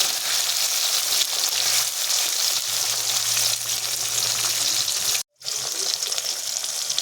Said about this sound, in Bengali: তেল গরম হয়ে গিয়েছে, এখানে দিয়ে দেবো আমি পেঁয়াজ কুচি, টমেটো কুচি